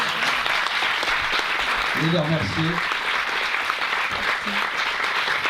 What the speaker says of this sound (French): Et je pense qu'on peut applaudir les invités